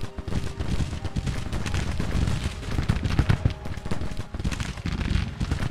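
Cannon artillery fire in the Civil War strategy game Grand Tactician, a dense, continuous rumble of booms and crackling volleys at a distance, loud throughout with no speech.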